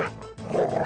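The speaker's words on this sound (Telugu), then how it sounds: "అదే కుక్క." A dog gives a short, sharp bark or two in a brief, loud burst.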